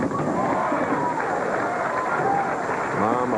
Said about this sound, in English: Mom applauding